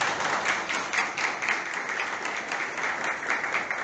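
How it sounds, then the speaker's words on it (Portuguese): A seated audience at an Umbanda week gathering in São Gonçalo claps for an introduced guest, a steady dense wash of applause from many hands held at even loudness with no voices over it. "queria trazer para vocês nossos convidados de hoje, nossa querida mãe Flávia Pinto, que eu peço uma salva de palmas"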